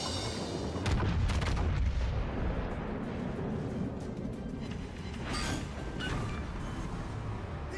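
Naval battle in a video game as an enemy battleship is destroyed and sinks: heavy booming blasts and rumbling explosions, a big burst near the start and more impacts later, continuous low roar underneath, no talking.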